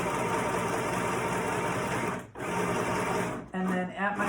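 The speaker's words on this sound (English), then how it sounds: "I'm going to begin to get that sewing started." A sewing machine runs continuously while stitching a seam for a party dress, its steady whirring motor pausing briefly before resuming, with a voice speaking faintly underneath near the end.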